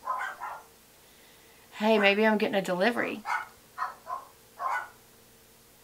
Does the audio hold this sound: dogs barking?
yes